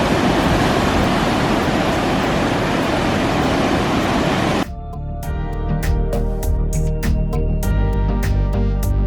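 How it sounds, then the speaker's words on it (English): Loud, continuous roar of surf crashing on a Lake Superior shore at Pictured Rocks, then an abrupt shift to quieter broadband wash with scattered sharper splashes and clicks. "check out these waves"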